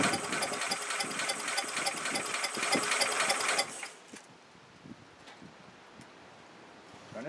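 A 1969 Sears 8XL garden tractor engine runs loud and close with a rapid rattling chug, then cuts out abruptly partway through, leaving quiet rustling and faint knocks.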